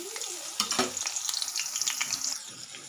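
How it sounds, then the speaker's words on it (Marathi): Garlic sizzles in hot oil in a pan, tempering for a home-cooked vegetable dish: a steady close crackling hiss broken by sharper pops and spits, with no talk. "लसूण टाकलं त्याच्यात."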